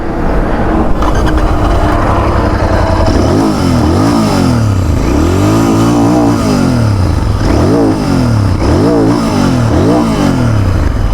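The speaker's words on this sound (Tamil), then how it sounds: "ஸோ இதோட எக்ஸாஸ்ட் நோட் இப்போ ஹியர் பண்ணி பார்க்கலாம்." A Royal Enfield Continental GT650 parallel twin revs through its twin exhausts: a loud, close idle burble climbs into repeated sweeping throttle blips, rising and falling pitch in a steady rhythm, with no voices.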